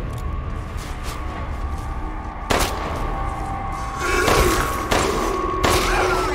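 Gunfire in the video game Resident Evil Village, Shadows of Rose, with several loud, sharp shots spaced a second or so apart over a rumbling game background.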